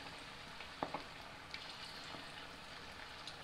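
Onion fritters (cekodok bawang) frying in hot oil give a steady, quiet sizzling hiss with a few faint pops and crackles scattered through it.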